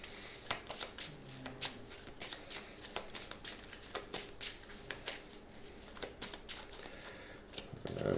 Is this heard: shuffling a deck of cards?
yes